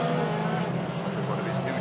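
WTCC touring race cars on the warm-up lap at the Slovakia Ring, a steady droning engine roar at moderate distance with a commentator talking over it throughout.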